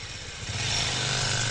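A motorcycle engine revs as the bike pulls away, a steady close buzzing drone that swells louder over a second and a half with no talk over it.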